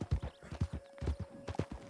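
Horse hooves clip-clop in Red Dead Redemption 2, a quick, steady run of close hoof thuds in uneven groups over a faint constant hum, with no speech.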